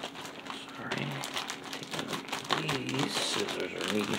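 Dull scissors snip and tear through a tightly wrapped mail package, crinkling wrapping paper in short bursts while someone talks over the cutting.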